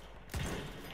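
A single sharp burst of gunfire in the video game Battlefield 1, a close, abrupt report with a short rumbling tail, heard on its own.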